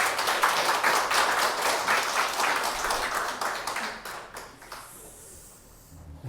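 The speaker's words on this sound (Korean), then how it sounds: "우리 하나님께 감사와 영광의 박수 올려드리겠습니다." Congregation applause during a Sunday church worship service, a sustained round of clapping that fades out over the last couple of seconds into quiet room tone.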